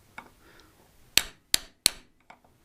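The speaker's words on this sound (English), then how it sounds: "with something as simple as a plastic or a wooden screwdriver, you can hit the fuel bowl area" A plastic or wooden screwdriver raps the fuel bowl of a motorcycle carburettor: one faint tap, then three sharp, bright metallic knocks about a third of a second apart, close and loud, with a last light tick.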